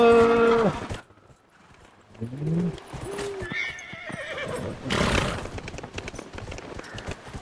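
A horse in the video game Dragon Age: Inquisition neighs loudly at the start, followed by a quieter stretch of hoof clops, snorts and scattered game sounds.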